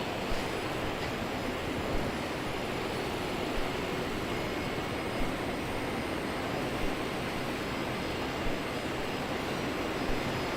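A jet airliner moves along the taxiway toward runway 01 right at Brisbane Airport before a flight to Melbourne, giving a steady, broad engine roar from a moderate distance throughout, with no voices.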